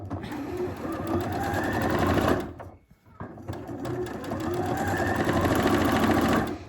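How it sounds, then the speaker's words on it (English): Sewing machine stitching a small quilt-as-you-go keychain, a close, steady rapid whirring run, a brief pause, then another sustained run of stitching. "I'm just gonna try and sew in a little more than I normally would."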